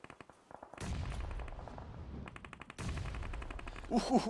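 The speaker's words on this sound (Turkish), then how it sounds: "Bomba geldi. İkinci bir bomba daha." Grenade explosions and gunfire in the PUBG Mobile battle royale game during a championship match: rapid, crackling bursts of shots and heavy booms, loud and close, with a sharp flurry at the end.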